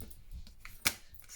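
Scissors trimming around glued paper in a journal, a few close, soft snips with one sharper crisp cut standing out in a quiet room.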